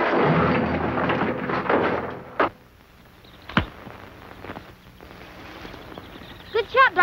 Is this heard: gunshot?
yes